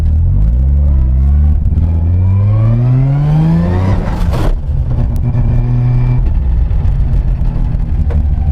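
A street-driven 700 hp Mazda RX-7 Series 3 race car idles and revs roughly nearby, its engine rumble rising and falling with a harsh mechanical rattle from a noisy gearbox, no talking.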